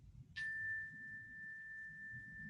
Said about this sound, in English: listening to the sound of this bell.